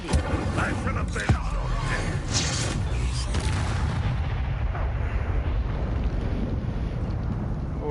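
A fiery blast from the Incendio spell in Hogwarts Legacy rumbles and roars as a steady, dense wash of combat effects, with a sharp crack early on and the noise thinning slightly toward the end.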